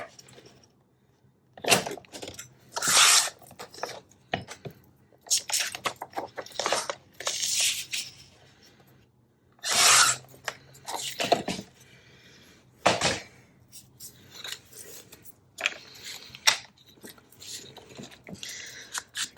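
Scissors snip through a paper bag while making a mini ephemera folio, giving crisp rustling cuts and crinkles in irregular bursts, close and fairly loud with short pauses between.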